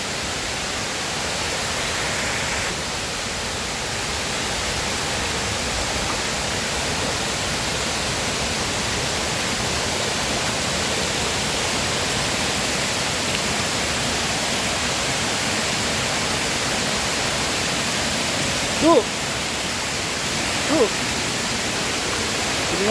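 Resort waterfall roaring as a dense, steady broadband rush of falling water, constant and loud from start to end, with a couple of faint brief knocks near the close.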